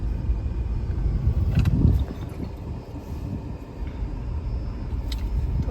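Steady low rumble of slow-moving road traffic heard from inside a car driving in light traffic on a long road trip, a continuous droning hum with a slightly louder swell near the start, no voices.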